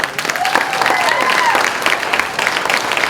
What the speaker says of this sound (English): She definitely deserves a round of applause